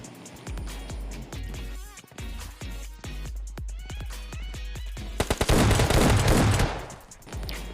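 Rapid gunfire in the mobile battle royale game PUBG Mobile Lite during a duo match, with a run of sharp repeated shots that builds into a dense, loud automatic burst near the end.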